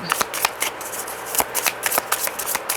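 Tarot cards being shuffled by hand: a quick run of crisp riffles and soft flicks, close and fairly loud, with no talking.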